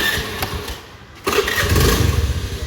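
A vehicle engine cranks and catches, the low rumble jumping up halfway through and settling into a rough, loud idle close by, with no talking.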